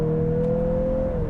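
A 2023 Mazda CX-50 SUV accelerates from the cabin with a steady, rising engine hum and a smooth drone, heard close and alone without talk.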